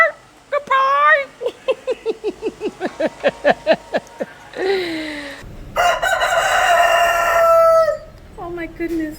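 A rooster crows repeatedly up close, loud harmonic cries with rapid clucking bursts between, during a travel day in Lagos, Nigeria; people talk nearby.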